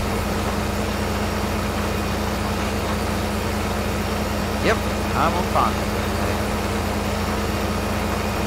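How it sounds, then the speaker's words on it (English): A big tractor's engine in Farming Simulator 15 drones at a steady low idle throughout, with someone talking over it. "Driving around in a big tractor"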